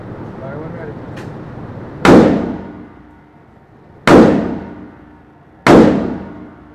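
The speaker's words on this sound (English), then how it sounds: "You go ahead and put it onto semi-auto. You're gonna give me those first three shots." An AK-47 rifle fires three single semi-auto shots outdoors, each a loud, sharp crack with a long ringing decay, spaced about two seconds apart, and faint speech comes before the first shot.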